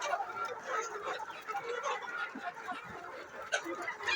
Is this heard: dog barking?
no